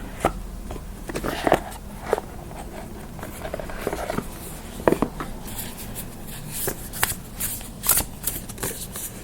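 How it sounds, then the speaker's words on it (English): A deck of Angel Wisdom Tarot cards is shuffled up close, giving a steady run of crisp riffling and patting bursts with brief pauses, heard alone without talk. "Let's pull from the Angel Wisdom Tarot."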